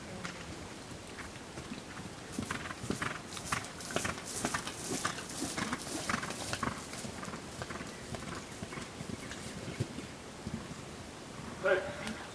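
Horse hooves clip-clopping repeatedly during a show jumping clinic, a steady, moderately close rhythm over outdoor ambience with scattered background noise.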